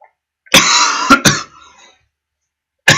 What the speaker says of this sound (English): Sorry, I'm coughing really